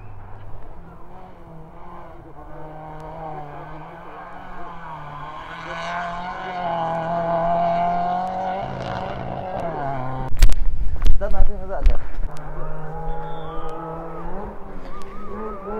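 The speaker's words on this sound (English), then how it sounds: "The car is coming." A rally car at the Indian Championship Rally approaches, its engine note rising and swelling from a distance, then roaring loudly with sharp bursts and revs as it nears and passes, with spectators talking over it.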